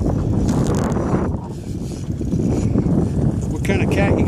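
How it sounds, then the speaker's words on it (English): Heavy wind buffeting a microphone, a constant loud rumbling roar throughout with no clear voices. "A little windy out here."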